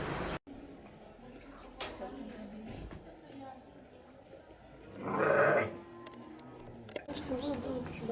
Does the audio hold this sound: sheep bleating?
yes